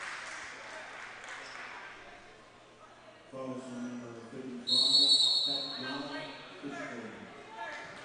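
A referee's whistle blows at a live CIU Rams basketball game, a short bright shrill tone rising over crowd noise and courtside commentary, with play-by-play talk running through the clip.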